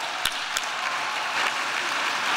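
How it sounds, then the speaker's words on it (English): The crowd at a national benefit event in New York City breaks into applause, a brief, even burst of many hands clapping at moderate volume with no voices over it. "Let's give those folks a big round of applause."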